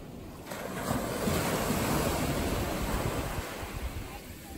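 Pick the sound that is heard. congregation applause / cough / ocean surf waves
ocean surf waves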